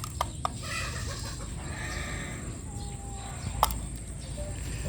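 Chickens cluck softly while feeding on a farm during rainy weather, with a few sharper calls among steady outdoor background noise at moderate distance.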